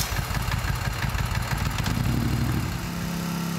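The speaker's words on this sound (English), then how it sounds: "Start and run the engine for a while to warm it up." A 1996 Moto Guzzi Centauro motorcycle engine runs to warm up, giving a steady, close, throbbing idle with a rapid even pulse that settles into a smoother hum toward the end.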